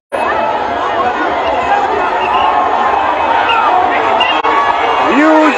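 At a George Weah rally in Busse Quarter, Monrovia, a massive crowd of citizens keeps up a steady roar of cheering, chatter and shouts, loud and unbroken, with a horn-like tone near the end.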